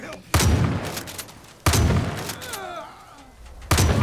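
Repeated gunfire in Far Cry 5, three loud sharp bursts spaced a second or two apart, with voices talking in the gaps between shots.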